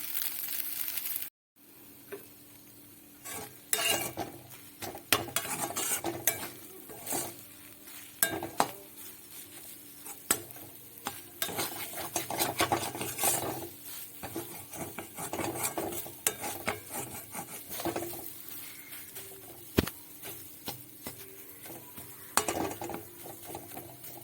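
Mankochu (giant taro) paste with turmeric frying in a pan and being stirred, with irregular scraping strokes of a spatula and clatter against the pan over a soft, quiet sizzle and no talk.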